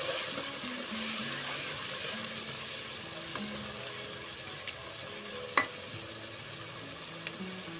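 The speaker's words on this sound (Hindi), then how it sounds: "ये सारे मसाले इसमें ऐड कर देंगे। इसको अच्छे से मिक्स करेंगे।" Spices being stirred into aloo shimla mirch gosht in a pan, a soft continuous sizzle with faint scraping and one sharp clink of the spoon, quiet and without talk.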